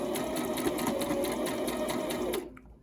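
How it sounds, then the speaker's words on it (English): Sewing machine stitching down and around the pockets of an A-line overgarment duster, a loud, close, steady mechanical whir with rapid needle clatter that stops abruptly near the end. "We are just sewing completely down and around the pockets."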